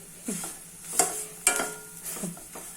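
Crisp vegetable bhaji frying in a pan, heard as a soft sizzle broken by several distinct stirring scrapes and clatters at a slow, uneven pace, with no talking.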